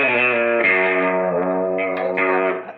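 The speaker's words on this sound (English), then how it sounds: "if you take some overdrive on both channels, you can get some really nice fuzz-like sounds" An electric guitar played through an Electro Harmonix Hot Wax overdrive pedal with both channels driven rings out a sustained, buzzing fuzz-like chord, then a few shorter notes, loud and alone.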